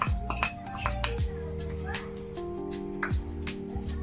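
Sesame, coconut powder and jaggery being stirred together for laddu, with a spoon clinking and scraping against a metal vessel in irregular strokes, close and fairly quiet.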